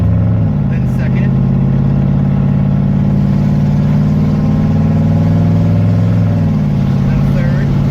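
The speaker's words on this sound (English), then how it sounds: "if I just do light throttle, there's first, then second" A 1993 Chevy K1500 pickup engine pulls steadily under light throttle, its low drone shifting pitch as the truck moves up through the gears, loud and continuous from start to finish.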